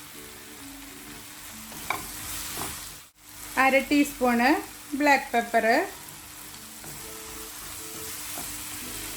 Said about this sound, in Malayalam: മസാലയുടെ പച്ചമണം എല്ലാം മാറുന്ന വരെ ഒന്ന് ഇളക്കി കൊടുക്കാം.